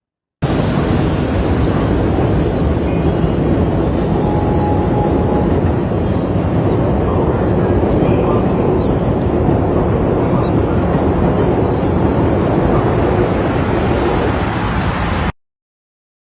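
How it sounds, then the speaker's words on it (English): Steady, dense rumble of a train running through deep snow in the Okanamizu area of Aomori, northern Japan during record snowfall, loud and continuous from start to finish with no talk. "The sight of the train passing through the snow is a special attraction"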